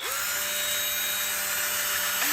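A Hiipoo 20V MAX lithium cordless drill whirs steadily at a constant high pitch for about two seconds, close and loud, with no voices, then its tone shifts briefly at the end.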